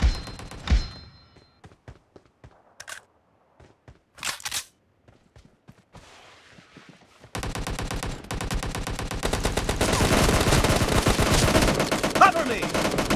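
Gunfire in PUBG Mobile team deathmatch, beginning with scattered single shots and brief bursts separated by quiet, then turning into sustained rapid automatic fire that continues loudly to the end.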